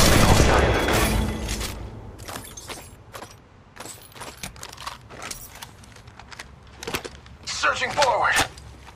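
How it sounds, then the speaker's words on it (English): Gunfire in Apex Legends, a heavy burst up front followed by scattered rapid shots and clicks, with in-game voice lines and talking layered over the firefight. "I'm taking fire."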